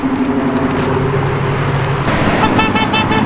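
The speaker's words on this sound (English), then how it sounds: "You never know if you're getting honked at or if they're honking for the sign" Car horns honk from passing traffic at people carrying a sign along a busy road, short toots over a loud, steady rumble of engines and road noise, with a brighter cluster of honks near the end.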